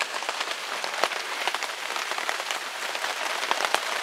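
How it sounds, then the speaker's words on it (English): Steady rain pattering on a taut tarp overhead, a dense crackle of drops with occasional louder splats, close and continuous. "Rain hitting that tarp."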